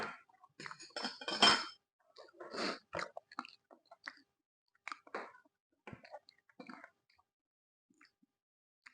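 Close-up crunchy bites of a baked taquito with green onions and cheese, followed by wet chewing, irregular bursts of crackling mouth sounds with quiet pauses between them.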